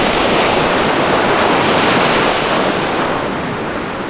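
Steady broadband roar of surf at Endless Water beach in Lakes Entrance, continuous waves washing in with wind noise on the microphone, loud and close, no voices.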